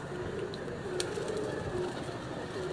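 Pigeons coo softly on a rooftop during a pigeon-flying tournament, the low repeated calls faint under steady background noise.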